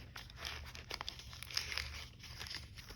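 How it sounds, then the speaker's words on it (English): Glassine paper crinkles and rustles near and alone in a fall junk journal with envelope pockets, a steady run of soft crackling with a few sharper crisp peaks. "just the noise of glassine paper."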